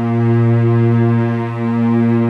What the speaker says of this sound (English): Just that constant cello sound.